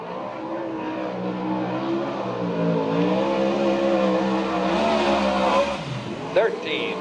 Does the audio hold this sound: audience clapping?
no